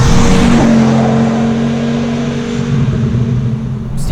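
A car engine is held at full throttle, a loud, continuous droning roar heard from inside, steady with slight swells over four seconds and no talking.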